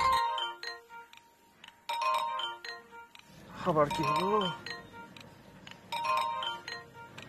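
A phone ringtone plays in repeated bright melodic bursts, pausing briefly while a person speaks, then resuming.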